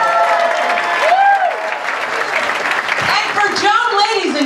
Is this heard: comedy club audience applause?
yes